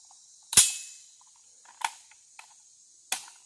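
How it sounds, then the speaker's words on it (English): A rifle bolt slams forward with one sharp metallic clack, followed by a few lighter clicks and a second crisp snap, close and distinct in an otherwise quiet space. "Go ahead and drop the bolt."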